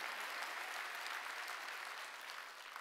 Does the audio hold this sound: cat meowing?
no